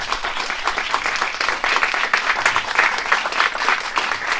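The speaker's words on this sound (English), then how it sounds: "I think we should give a round of applause to these two sponsors who are here today." An audience applauds the sponsors at the launch of a SUP foundation, a dense and steady round of clapping from a crowd that holds for several seconds without any speech.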